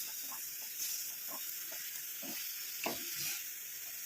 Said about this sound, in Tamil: இந்த மாதிரி நல்லா கிண்டி விட்டுட்டே இருக்கணும், அப்போ தான் நல்லா கரையும் உங்களுக்கு